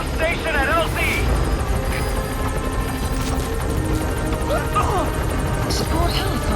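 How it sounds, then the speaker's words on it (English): Support helicopter arriving in Metal Gear Solid V: The Phantom Pain, a steady loud rotor drone and hum running throughout, with game voices and chirps layered over it. "Support helicopter has arrived."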